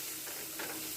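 Vegetables frying in a pan with salt, a steady close sizzle and hiss with a brief stir partway through.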